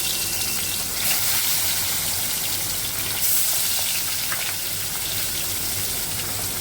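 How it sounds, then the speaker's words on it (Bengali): Bele (goby) fish fry one by one in hot oil in a kadai, giving a steady, loud, hissing sizzle with a couple of brief surges as pieces go in, and a low hum beneath. "এবার আমি বেলে মাছগুলোকে এক এক করে দিয়ে লাল লাল করে ভেজে নেব।"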